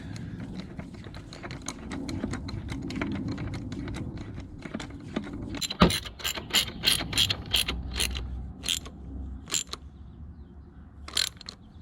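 A hand ratchet snugs down the oil drain plug on a Mercedes W126 420SEL/560SEL sedan, giving rapid, close, crisp clicking pawl strokes in uneven bursts with short pauses between swings.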